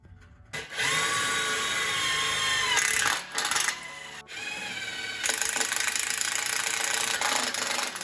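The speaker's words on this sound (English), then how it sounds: "so I can just drill the hole right in the center" A power drill with a 1/4-inch bit bores a hole in the center of a metal dirt bike hitch carrier, whining steadily up close with a couple of brief pauses and shifts in pitch as the bit bites in.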